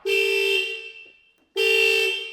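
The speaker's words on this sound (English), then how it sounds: "Setting off the alarm." A car alarm blares the horn in two long steady blasts separated by a short pause, loud and close.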